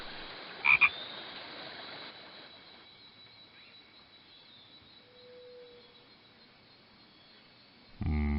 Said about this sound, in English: Help Fernando Frog find all the mates he can in Frog Song.